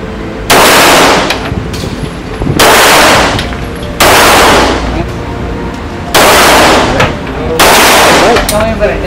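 Pistol shots fired at an indoor shooting range come as five loud, sharp blasts spaced about two seconds apart, each with a long booming echo that fades before the next.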